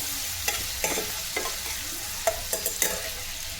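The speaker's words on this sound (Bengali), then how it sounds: "একটুখানি সামান্য নেড়ে নেবো গাজরটা" Carrots being stirred and fried in a pan, steady close sizzle with several sharp scraping strokes of the spatula at irregular intervals, no talking.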